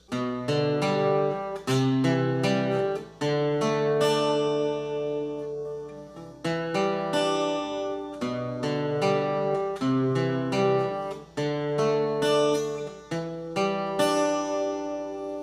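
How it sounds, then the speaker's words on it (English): Plucked acoustic guitar notes in a steady, repeating fingerpicked pattern over sustained low tones, played alone without voices. "guitar with a picking pattern that I think sounds something like this"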